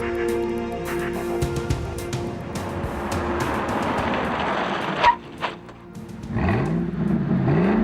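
A 2001 Ford Lightning pickup's 5.4-liter supercharged V8 drives past, a sustained rumbling engine drone with shifting pitch, a couple of sharp bumps, then rising revs toward the end.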